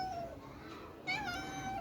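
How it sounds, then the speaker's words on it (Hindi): A cat meows twice, first a faint drawn-out call and then a louder, longer meow, fairly close in a quiet setting with no talking. "यहाँ पे एक बिल्ली है, देखोगे?"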